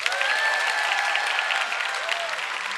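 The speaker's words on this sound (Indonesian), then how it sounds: "Tepuk tangan dulu." A large student audience at a national stunting-prevention kickoff event applauds, a dense, steady wash of clapping heard from within the hall that holds its level and eases slightly toward the end.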